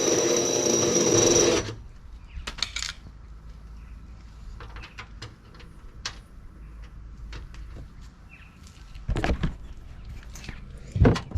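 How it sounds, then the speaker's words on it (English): A power drill bores briefly into a metal board, a short loud burst of whirring at the start followed by quieter clicks and taps, with a couple of faint later bursts. "I'm sort of like half drilling into it"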